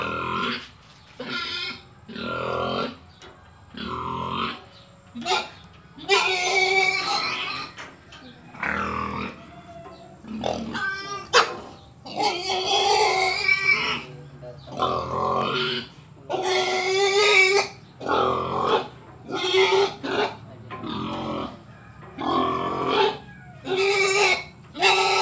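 A Large White gilt pig squeals and grunts in repeated loud bursts that keep going at close range, with people talking in between.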